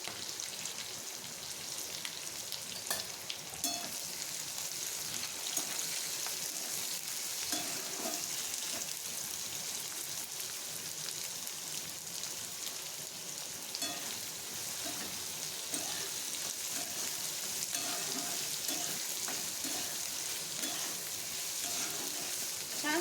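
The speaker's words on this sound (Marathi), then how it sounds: "तिथे कांदा टाकून तो सुद्धा परतून घ्यायचा आपल्याला" Onion sizzles steadily in a pan, a constant close hiss like light rain, with occasional soft scrapes and knocks of stirring throughout.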